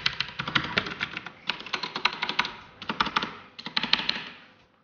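Blue-switch IKBC F104 mechanical keyboard being typed on up close: four bursts of rapid, clicky keystrokes separated by short pauses, with no talking.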